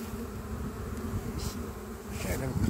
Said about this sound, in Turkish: bir çıta mevcudun olduğu arı bu